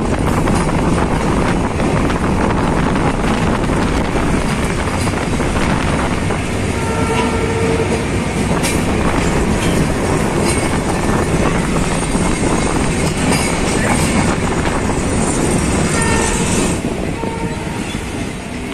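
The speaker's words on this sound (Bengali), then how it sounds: "Madhumati express train Gendaria station." The Madhumati Express train runs past Gandaria station in Dhaka, producing a loud, sustained roar of wheels and carriages with faint clickety-clack and occasional tonal squeals throughout, recorded close with wind buffeting.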